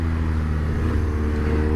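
A BMW R1200 R twin-cylinder motorcycle engine downshifts with a loud, steady, close drone full of deep low harmonics and slight wavering in pitch. No voices are heard.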